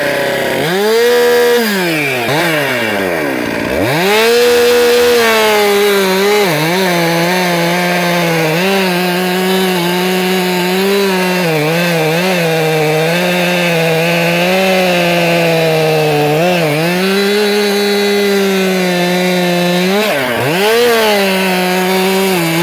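A chainsaw fitted with a professional .325 pitch chain cuts through wood for tree work, the engine screaming loud and steady at high revs, with brief dips in pitch as the chain bites in.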